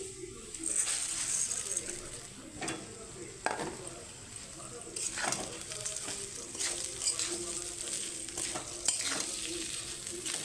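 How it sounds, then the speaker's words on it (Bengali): Rice being stirred in a hot pan with coriander and cumin powder, a soft sizzle broken by repeated scraping strokes of a spoon against the pan at irregular intervals. "চালটা দিয়ে একটু নাড়বো দু মিনিট মতো সব মিশিয়ে নেবো ভালো করে"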